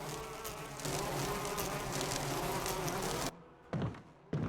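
Dense, steady insect buzzing from a giant beehive in the video game Resident Evil (2002) swarms loudly for over three seconds, then cuts off abruptly, leaving a couple of brief, softer bursts.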